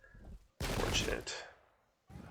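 A loud burst of gunfire from an East vs West video game firefight erupts abruptly, a dense volley lasting under a second before tailing off, with faint voices before and after.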